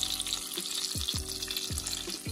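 Chicken breasts stuffed with asiago cheese and spinach brown in a hot pan with a steady, close sizzle, broken by a few quick scraping stirs.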